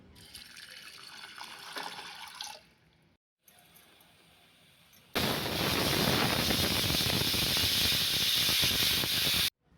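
A pressure cooker of roasted cowpeas releases steam in a loud, continuous hissing rush lasting several seconds, after quieter bubbling and softer hiss nearby.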